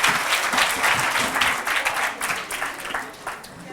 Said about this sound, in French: Un maximum d'applaudissements pour eux.